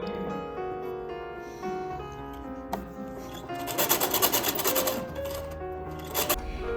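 A sewing machine stitches gathered lace onto the top edge of an Edwardian corset, a steady whirring run that grows louder midway, with tonal background music throughout.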